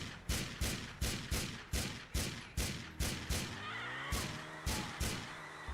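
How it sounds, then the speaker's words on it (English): A kaboom gun in an online PS3 video game fires a rapid series of loud, booming blasts at a steady rhythm, about a dozen shots, with a brief pause and ringing tail midway. "What's the kaboom gun? Oh! That's what the kaboom gun is."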